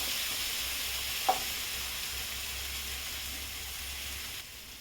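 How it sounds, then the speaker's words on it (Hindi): Kasuri methi (dried fenugreek leaves) roasting in hot oil for a whole masoor dal tadka, giving a steady, soft sizzle with one brief tap near the start and no talking. "कसूरी मेथी भी डाल देती हूँ। इसे भी मैं थोड़ा भून लेती हूँ, ऐसे चारों तरफ"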